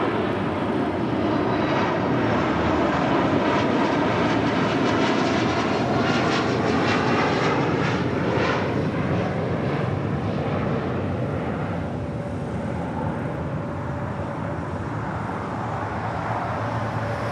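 Airliner taking off from runway 25 right at LAX, a loud sustained jet engine roar with a rising, sweeping whine that slowly fades as the aircraft departs.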